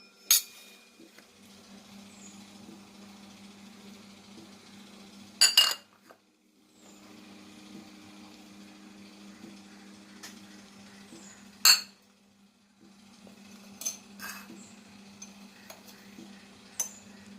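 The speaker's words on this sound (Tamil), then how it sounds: "ப்ரான்ஸை சுத்தப்படுத்தியாச்சு, தோல்லாம் எடுத்துட்டு இப்போது தனி மிளகாய் பொடி, குழம்பு மிளகாய் பொடி சேர்த்து வரைக்கலாம்" Cleaned, peeled prawns being mixed with chilli powder and kuzhambu chilli powder in a bowl, giving soft scraping and light clinking of a spoon against the dish, with a few sharper knocks and no talk.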